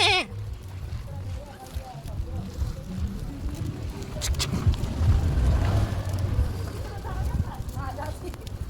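Herd of goats driven by tribal shepherds on a rural road in Junnar taluka, several bleats rising from nearby and farther away, with hoof clatter and people talking over them.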